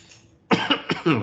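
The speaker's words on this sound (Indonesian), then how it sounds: "Ngomong lama tuh batuk-batuk ini." A single person coughs a few times in quick succession, close and fairly loud, after a brief quiet moment.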